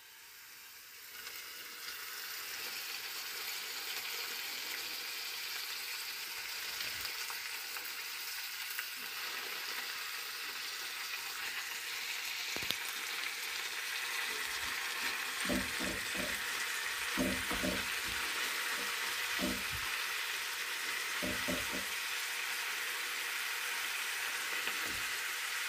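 Steady soft sizzling of spinach and carrots sautéing in a pan, with occasional stirring scrapes and clinks of a utensil partway through.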